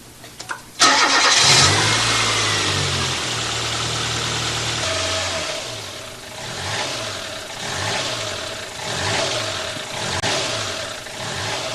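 A Toyota engine cold-starts with a quick cranking burst, then catches and settles into an idle that rises and falls in slow repeated surges, close and fairly loud.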